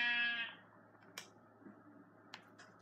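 A sheep bleats in Minecraft: one clear bleat opens the clip and fades out, followed by a few soft clicks and taps at low level, with no talking.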